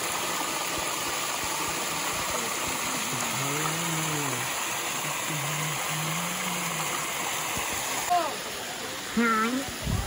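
Water pours and rushes continuously at a waterfall and stream in a forest in Angul, a steady broad roar close by, while people talk and call out over it.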